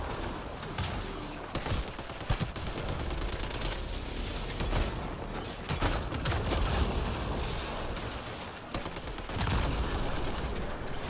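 Gunfire in the Apex Legends video game comes as dense bursts and rapid volleys, with booming impacts mixed in. It is loud and continuous.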